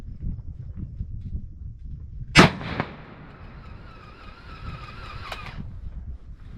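A single sharp 7mm Remington Magnum rifle shot with a brief echo, set against low rumbling background noise, followed by a faint sustained whine and a small click.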